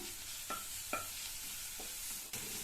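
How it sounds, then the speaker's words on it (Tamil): A crushed fennel, cumin and garlic mixture is sautéed in a pan, with quiet scraping stirs and a faint sizzle, a few utensil scrapes standing out. "இதையும் நல்லா வதக்கி விட்டுக்கணும்."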